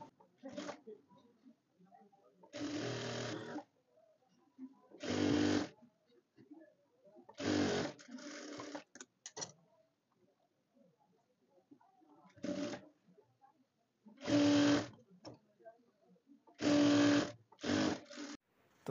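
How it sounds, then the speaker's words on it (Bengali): A sewing machine stitching short seams along the sides of a cloth cover for a Quran: several short whirring bursts, one to two seconds each, separated by quiet pauses, up close. "এই যে দেখেন, একদম ছোটো করে সেলাই দিতেছি।"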